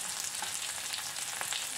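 Fenugreek seeds, chopped shallots and curry leaves tempering in hot oil for a jackfruit seed and dried prawn curry, a close, steady crackling sizzle heard alone.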